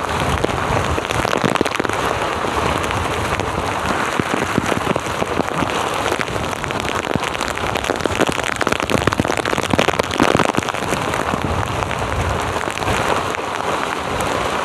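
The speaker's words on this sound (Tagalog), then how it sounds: "Talagang malupit itong ulan na ito." Heavy rain pours down hard on surfaces during a storm at sea, a dense, continuous roaring patter with no letup, loud and close throughout.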